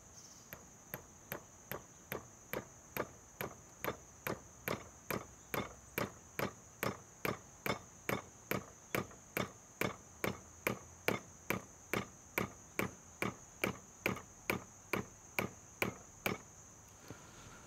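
Repeated crimping strokes on a terminal lug clamped onto 4/0 cable, about thirty sharp, evenly spaced clicks close up with a steady high whine behind them, no talking.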